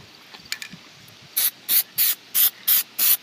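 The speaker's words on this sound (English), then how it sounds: "So I'm going to actually spray my bumper down there where it's at to make it easier to peel later." Six evenly spaced, loud bursts of Plasti Dip aerosol sprayed onto a Nissan Titan truck bumper, each hiss lasting about a quarter second, preceded by a few faint clicks and handling noises.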